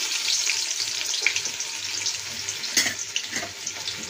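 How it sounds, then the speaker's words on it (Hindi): Onions hit hot oil in a pot for Delhi-style beef biryani, setting off a continuous bright sizzle with a few sharper pops and crackles, close by and with no one speaking. "ये देखिए, हमारा तेल अच्छी तरह गर्म हो गया। अब हम इसके अंदर प्याज डाल देंगे।"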